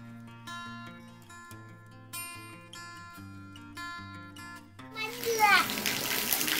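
A small child plays in rainwater; sustained tonal sounds give way to loud, close splashing and gushing water in the final seconds.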